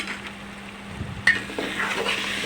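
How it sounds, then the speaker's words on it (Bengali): Red lentils (masoor dal) being stirred and fried in a pan for a Bengali Malabar spinach dish, with a steady low sizzle and scraping spoon strokes near and alone, a sharper scrape midway. "আবারও মুসুর ডালটাকে ভালো করে কষিয়ে নিচ্ছি আমি নিচ থেকে ভালো করে নাড়াচাড়া করে দিচ্ছি"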